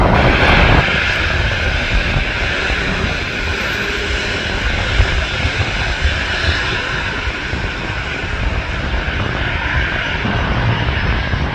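A Boeing 777 takes off on runway 23 at Toronto Pearson International Airport, its jet engines a loud, steady roar that holds without a break throughout.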